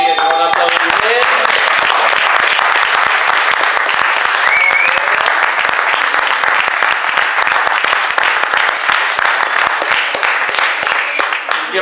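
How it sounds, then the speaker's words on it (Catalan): Loud, sustained applause from a crowd honoring the children performers at a Christmas party at Alfés, dense clapping carrying steadily throughout with a murmur of voices underneath. "O sigui, un aplaudiment."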